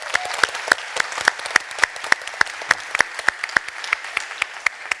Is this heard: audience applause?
yes